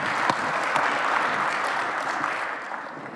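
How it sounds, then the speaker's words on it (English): A burst of applause from a crowd at a programming tournament final, full and continuous, fading slightly toward the end, with no talk. "Let's give him another round of applause."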